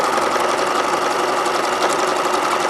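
A sewing machine stitches overlapping knit strips onto a skirt as a ruffle, giving a fast, even, close mechanical whir with a rapid needle rhythm running unbroken throughout.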